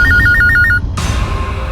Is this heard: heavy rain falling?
no